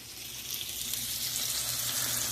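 Thin pork chops searing in a hot skillet, a soft continuous sizzle and crackle that stays steady and fairly quiet throughout.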